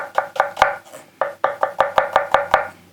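A kurouchi tsuchime kiritsuke chef's knife chops through onion on a cutting board, about a dozen crisp, sharp knocks at a fairly quick, slightly uneven rhythm, with a brief pause partway through.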